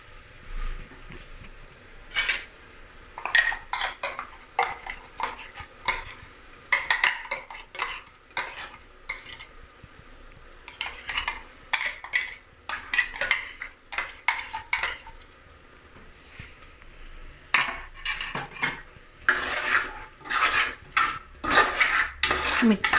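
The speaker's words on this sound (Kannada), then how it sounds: "ನೋಡಿ ಇವಾಗ ರುಬ್ಬಿಟ್ಕೊಂಡಿರೋ ಮಸಾಲೆನ ಹಾಕ್ತಾ ಇದ್ದೀನಿ" A spoon scrapes and stirs thick bisi bele bhath in a pot as ground masala is mixed in, with bursts of metallic scraping and clinks separated by quiet pauses, close by and without talk.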